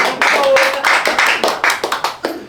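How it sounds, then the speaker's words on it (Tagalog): An audience at a rap battle claps in a quick burst of hand claps, close and loud, thinning into a few separate claps toward the end. "Palakpakan naman natin."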